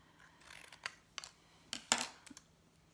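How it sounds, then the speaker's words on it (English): Scissors cutting shapes from flattened cardboard for a collagraph print plate, giving a few sharp, separate snips and crunches up close against a quiet background. "You're just going to simply, you know, cut it into whatever shapes you want."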